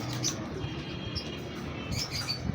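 Breeder pigeons in a loft give soft, faint chirps and coos, a few brief calls scattered over a quiet background.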